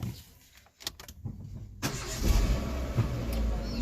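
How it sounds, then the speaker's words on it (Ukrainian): A Renault Megane 2 sits quietly, then its starter gives a short crank and the engine catches, settling into a loud, steady idle close by. "Зараз заведемо автомобіль."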